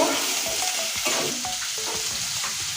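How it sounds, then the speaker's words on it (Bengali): Potatoes fry in oil in a pan until reddish, a loud, close, continuous sizzle with regular scraping and tapping from stirring, and no one speaking. "আলুটা লাল করে ভেজে নেব"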